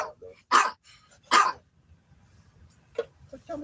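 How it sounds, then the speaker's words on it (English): Chico the dog lets out two loud, sharp barks close by, followed by a few softer yips and grumbles, with a person talking faintly in between. "Barking awful lot, though."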